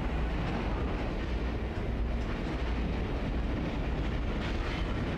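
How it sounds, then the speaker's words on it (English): Steady, dense rumble of a moving train in the Condemned: Criminal Origins video game, a constant loud low roar with faint rattling and no voices throughout. "We're on the train."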